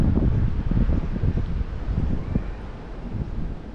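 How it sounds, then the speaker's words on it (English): Wind gusts buffet the microphone outdoors by the water during urban bass fishing in Sydney, a loud, continuous rumbling roar with uneven surges and no voices. "It's just the wind that we gotta kind of worry about."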